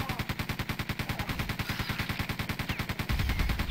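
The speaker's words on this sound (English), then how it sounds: "We're gonna use machine gun." Rapid machine gun fire in the video game Quake II, a fast even rhythm of loud repeated shots with no pause, ending in a denser burst.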